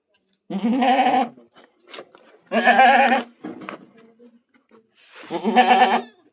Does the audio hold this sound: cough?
no